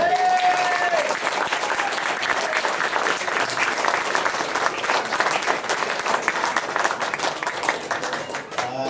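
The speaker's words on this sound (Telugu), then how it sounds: "అండ్ ఒక్కసారి గట్టిగా క్లాప్స్" An audience of event attendees applauding loudly, a dense sustained burst of clapping that continues for several seconds and thins slightly at the close.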